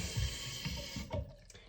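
Mixed warm and cold tap water runs over a NeeDoh Nice Cube squishy toy, a soft, close trickle with several brief splashing pulses as it is rinsed around, then tapering off.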